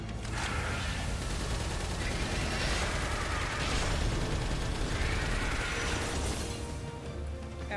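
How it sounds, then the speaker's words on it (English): A Gatling gun fires in the Palworld video game, dense rapid bursts of gunfire running almost without a break, loud game audio with no talking. "Pull out my Gatling gun."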